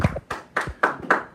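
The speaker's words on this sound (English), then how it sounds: "Can I get an applause or what?" Scattered applause in a classroom, five separate sharp claps at an uneven, hesitant pace, fairly close and quiet, with no talking between them.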